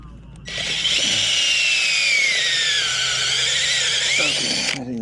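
A power drill bores a pilot hole, whining loudly and steadily for about four seconds before stopping, with a falling pitch as it bites in and brief handling noises at start and finish.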